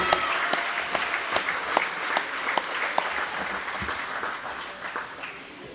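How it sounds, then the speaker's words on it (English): Gym crowd applauding senior girls' basketball players at Menno High School, steady clapping with distinct individual claps cutting through, sustained and gradually easing off. "Let's give these ladies a big round of applause."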